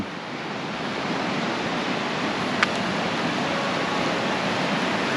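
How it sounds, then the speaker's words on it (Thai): A river rushes steadily at a crossing on a Kashmir Great Lakes trek, giving a continuous loud broadband roar with no let-up and no voices. "ตรงนี้นะครับเราก็จะเดินข้ามแม่น้ำกัน"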